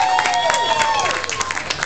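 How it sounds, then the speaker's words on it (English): Audience applause and clapping at a darts contest where a man serves as a human dartboard, a short burst of crowd clapping over a high whistling tone and some voices. "By a round of applause, who was the better dart thrower?"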